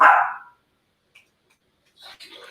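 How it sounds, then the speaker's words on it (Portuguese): A single loud dog bark at the start, close and sharp, followed by near silence and then faint indistinct sounds at the end. "esse mocinho que vocês estão escutando é o meu cachorro, que ele não para um segundo."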